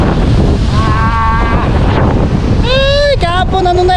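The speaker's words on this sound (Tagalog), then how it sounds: "lakas ng hangin." Strong gusty wind at a fishing spot buffets the microphone with heavy rumbling roar, a voice talking over it.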